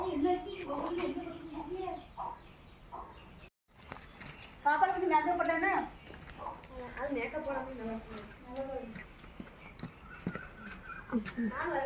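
Chickens cluck and squawk close by at a poultry farm, with people talking over and between the bird calls throughout.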